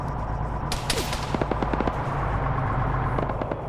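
A video game autocannon firing in a fast run of heavy, evenly spaced rounds, loud and near, over a steady low engine rumble, with no talk.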